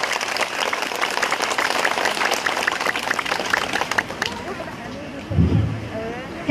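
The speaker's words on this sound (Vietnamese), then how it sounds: "Chúng ta giơ một tràng pháo tay cảm ơn các em." Clapping rises from the audience for a dance troupe that has just performed at a Buddha's Birthday celebration at Long Vân temple in Biên Hòa, Đồng Nai. The dense applause fades out near the end as a voice takes over.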